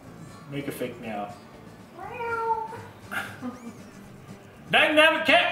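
A person mimics a cat's meow several times, with drawn-out, rising and falling cries ending in a louder, harsher yowl.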